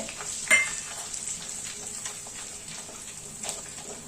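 Whole spices hit hot oil for a paneer gravy, a close, steady sizzle with a sharp spitting burst at the start and light stirring clinks throughout.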